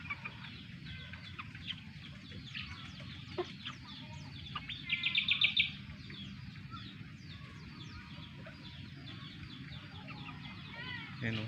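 Backyard chickens, including a hatch-line hen with chicks and a street comb rooster, cluck quietly and steadily at a distance. A louder, sharper burst of calls comes midway, and faint talk runs underneath.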